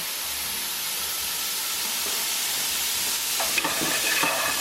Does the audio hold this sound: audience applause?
no